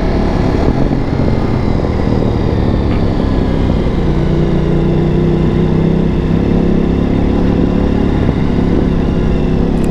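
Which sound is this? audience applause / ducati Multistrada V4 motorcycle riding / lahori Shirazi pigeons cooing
ducati Multistrada V4 motorcycle riding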